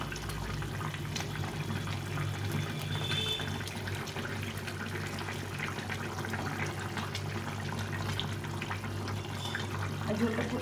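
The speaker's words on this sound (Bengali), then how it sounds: "ঝোলটা দেখো কি সুন্দর ফুটে গেছে।" Fish curry broth with tomato boils in a pan, producing a steady, continuous bubbling and simmering wash throughout, close and fairly even in level.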